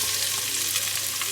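Onions hit hot olive oil in a pan for a spicy sausage soup, producing a brief, steady, close sizzle with no voices.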